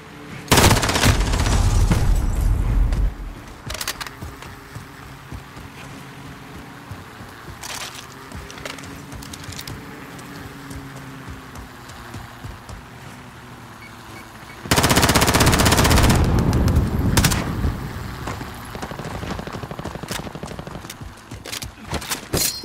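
Call of Duty multiplayer gunfire: loud, rapid automatic bursts open the exchange, a quieter stretch of scattered shots and battlefield noise follows, then another long, close, sustained burst erupts near the end.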